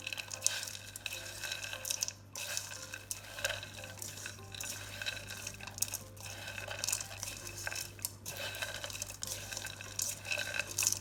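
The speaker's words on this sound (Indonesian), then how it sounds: "Masukkan teri, lalu diaduk lagi." A utensil stirs crispy fried tempeh with anchovies in a pan, soft scraping and clinking strokes repeating over a faint sizzle and a steady low hum, quiet and close.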